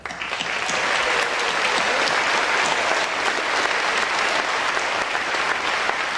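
Sustained, loud applause from a large audience at a high school graduation ceremony, a dense steady wash of clapping filling the full stretch with no talk over it.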